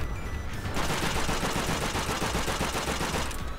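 Sustained rapid machine-gun fire from a 'dish gun' and an MG42 in Call of Duty: World at War PC multiplayer, a continuous dense rattle of shots.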